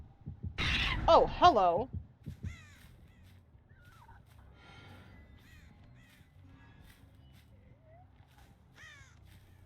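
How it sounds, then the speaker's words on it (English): Several crows in Dead by Daylight caw loudly together in a short harsh burst near the start, then a few fainter scattered caws follow. Eerie game ambience and a heartbeat-like throb continue, and a person briefly speaks. "Send a murder of crows to my lovely friends."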